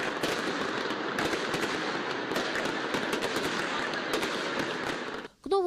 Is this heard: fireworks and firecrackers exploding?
yes